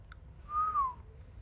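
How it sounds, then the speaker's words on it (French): One short whistled note, sliding gently downward and lasting about half a second, faint against a quiet room. "Je sais pas si mon sifflement on entend bien."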